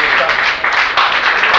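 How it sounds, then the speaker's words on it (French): A church congregation applauds during a Sunday sermon, with dense steady clapping from a crowd close by and a voice faintly mixed in beneath it. "Applaudissez le Seigneur pour vous-même."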